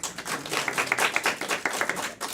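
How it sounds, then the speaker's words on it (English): A small audience claps for someone named Chris, producing a fairly quiet, uneven patter of hand claps that rises and falls over a couple of seconds before fading, with no talking. "Everybody clap for Chris."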